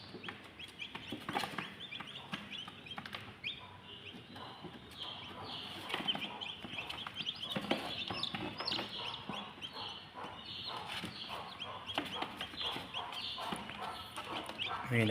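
White Kelso chickens in a backyard, with a dense run of nearby clucking and chirping throughout, fairly loud and continuous.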